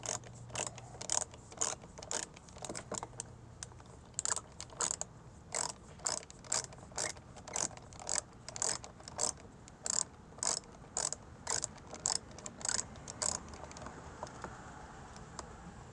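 A ratchet tightening a bolt on a Volkswagen Tiguan rear bumper, a long steady series of close, crisp pawl clicks in a regular rhythm, heard alone.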